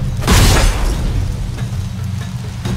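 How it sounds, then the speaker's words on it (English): A bomb blast in The Witcher 3: Wild Hunt, one heavy booming explosion early on followed by a low rumbling tail that lingers for a couple of seconds, loud and close. "Throw a bomb."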